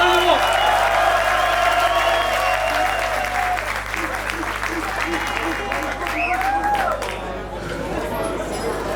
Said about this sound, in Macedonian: еден аплауз за двајците да го отвориме следено